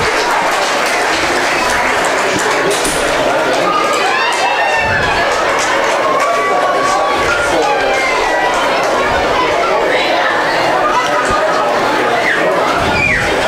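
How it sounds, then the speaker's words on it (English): Crowd at a high school game event applauds raffle winners of a Ford F-150 Platinum pickup, loud continuous clapping mixed with chatter and cheering voices throughout. "Getting a big round of applause from everybody"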